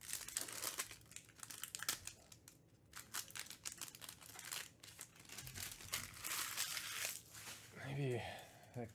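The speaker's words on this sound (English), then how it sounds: "Some of the packs sound like zippers when you open them." Panini basketball trading card packs are torn open, and their foil wrappers crinkle and crackle close by in dense bursts. A voice speaks briefly near the end.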